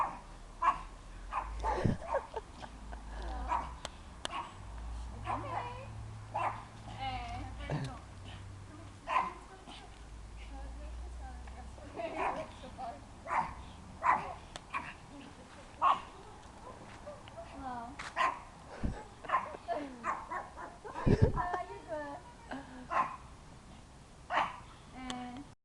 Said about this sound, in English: Just a little dog there.